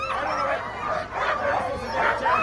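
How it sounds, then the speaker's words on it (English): Sled dogs at an Iditarod race start yip, whine and bark excitedly in a continuous noisy chorus, with people talking over the clamor. "The dogs are very excited, very ready to go."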